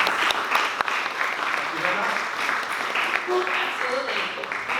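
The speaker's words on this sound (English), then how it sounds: "Please applaud for our host." An audience at a speaker series on negotiation applauds the host, a dense continuous round of clapping lasting several seconds with voices mixed in.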